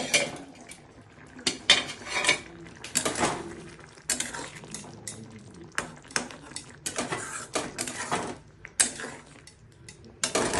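Metal clinks and clatters in irregular bursts as a lid comes off a cooking pot of lentil dal with koftas, close and fairly loud, several sharp knocks and scrapes spread across the stretch.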